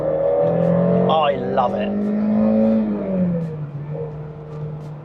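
A Citroen ZX 16V hot hatch engine revs and pulls while driving, a steady car drone rising in pitch and then easing off, with someone speaking briefly over it.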